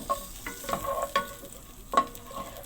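Butter and vegetables, including green chili peppers, cooking in a pan with a little oil, giving a low sizzle broken by several sharp scraping stir strokes, close and fairly quiet, with no talking.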